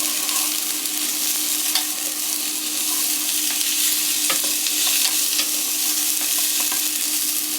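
Onions fry in a pan with a continuous bright, hissing sizzle and occasional small pops and stirs, steady throughout at close range.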